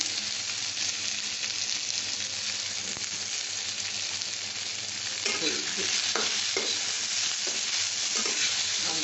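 Turmeric stirred into hot oil in a frying pan gives a continuous close sizzle, with spatula scrapes becoming more frequent toward the end; no one speaks.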